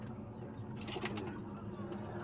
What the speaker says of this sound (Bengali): এখানে মোট 9 পিস কবুতর আছে, গিরিবাজ আছে, দেশিও আছে।